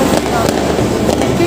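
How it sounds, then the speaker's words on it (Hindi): Firecrackers set off by children during a family Diwali celebration, a loud, close burst of crackling pops and fizzing over a busy background with voices mixed in. "बच्चों ने अलग अलग तरह के पटाखे चलाए"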